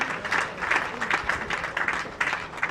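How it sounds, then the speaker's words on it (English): An audience at a formal ceremony gives a short burst of dense applause, many hands clapping at once in an uneven, rippling wash at moderate loudness. "Shall we please give them a round of applause?"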